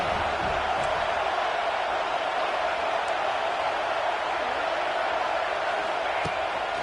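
Crimson Tide home crowd at Saban Field roaring on third down in a college football video game, a dense, steady wash of crowd noise holding at an even level throughout.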